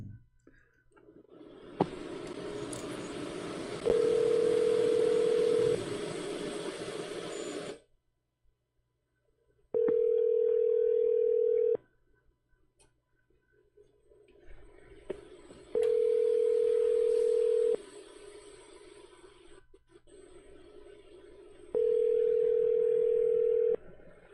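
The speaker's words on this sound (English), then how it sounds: "Let's go ahead and hit the dial button, please." A telephone gives a steady dial tone in several timed bursts after the dial button is pressed, with clicks and hiss in between and quiet gaps of near silence.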